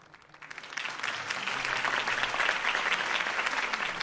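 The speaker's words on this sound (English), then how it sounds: "could have heard that applause" Video game applause from Batman: The Telltale Series swells in after a brief quiet start, then holds as a steady crowd clapping, with a faint murmur beneath it.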